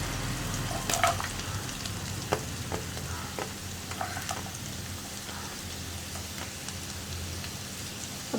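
Chopped onions frying in a hot pan for tomato egg rice, a steady close sizzle like light rain with occasional stirring clinks and scrapes throughout, no talking.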